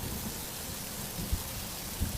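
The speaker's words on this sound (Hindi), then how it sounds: "पूरी रात मूसलाधार बारिश होती है" Heavy rain pours steadily through the night as a soft, even hiss of falling water, with a couple of faint low thumps.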